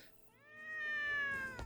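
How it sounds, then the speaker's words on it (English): A single drawn-out cat meow from the video game Legend of Sword and Fairy 5 Prequel, clear and fairly close, rising then holding a steady tone for over a second with no talk over it. "They say cat sounds."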